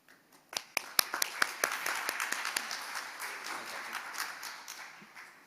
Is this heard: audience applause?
yes